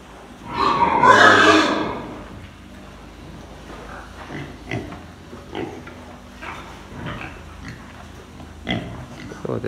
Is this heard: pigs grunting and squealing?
yes